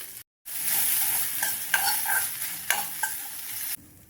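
A spoon stirs fried turkey berries with grated coconut in a hot pan, a steady sizzle broken by scraping strokes, close and continuous, with no talk.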